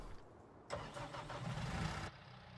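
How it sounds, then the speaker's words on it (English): A New Holland skid steer in Farming Simulator 19 starts up and rumbles for about a second and a half, a steady mid-pitched engine drone that then cuts back to a quiet idle. "Here's my little New Holland skid steer."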